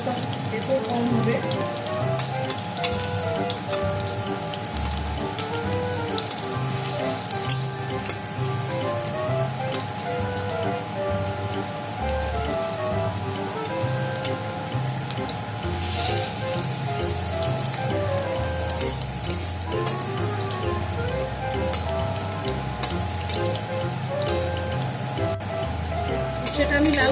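Bitter gourd pieces fry in oil in a kadai with a dense, rain-like crackle and hiss that continues steadily, close and moderately quiet, with a few sharper pops.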